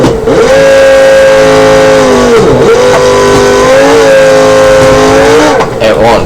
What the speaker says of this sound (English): Let's see how it does the burnout.